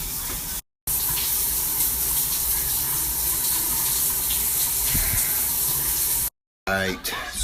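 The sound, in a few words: shower running water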